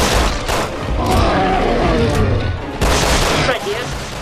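Rapid gunfire and heavy impacts from the Resident Evil 6 video game in Chris's campaign, loud and dense with bursts and booms throughout, under occasional talk.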